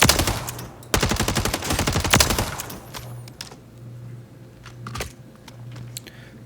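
Rapid bursts of DG58 rifle fire crack in quick succession in a Warzone match, a dense, loud volley for over two seconds, followed by a few scattered single shots and clicks over a low steady hum.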